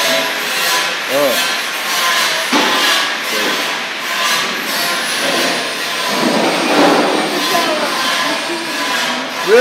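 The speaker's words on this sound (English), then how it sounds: "the workshop is very busy" A busy welding and trailer manufacturing workshop carries a continuous, loud clatter of metalwork, with scattered knocks and scraping heard close by throughout.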